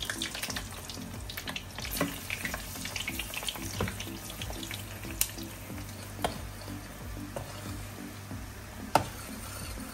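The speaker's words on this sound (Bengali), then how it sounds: "তো আমি এখন ফ্রেঞ্চ ফ্রাইটা তৈরি করতেছি, এখানে তার জন্য আমি তেল গরম করতে দিয়েছি।" French fries bubble in hot oil, a faint steady frying hiss with occasional small pops and clinks throughout.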